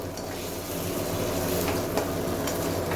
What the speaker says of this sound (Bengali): এখন এটা ভালোভাবে একটু কষিয়ে নিতে হবে